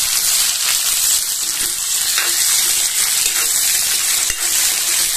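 Onions fry in hot oil in a pan, after seeds have already crackled in it, for a leafy ponnaganti greens fry; a loud, steady close sizzle continues throughout with faint occasional stirring clicks and no talking.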